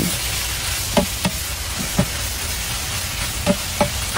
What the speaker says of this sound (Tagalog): And then, haloin natin ulit para may halo yung oyster sauce para may lasa.